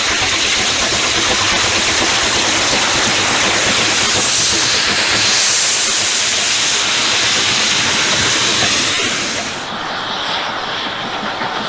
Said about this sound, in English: number 34027 Tor Valley heads along the Huntington Tunnel section